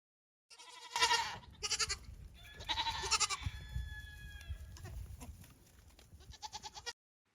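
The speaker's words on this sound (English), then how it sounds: "They are both little boy goats, so they are the new addition to our farm" Young male goats, new baby boys on a small farm, bleating in several separate bursts, some long and wavering, others short and repeated, close by and fairly clear, with light background noise and no talking.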